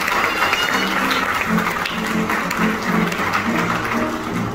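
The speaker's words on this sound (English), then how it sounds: "I want you to give your young people a round of applause" A crowd at a middle school award ceremony applauds steadily, many hands clapping in a dense, even wash that stays loud for several seconds.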